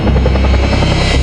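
An overloaded helicopter lifts off with a loud, close, continuous rotor chop and engine roar, steady throughout with no voices.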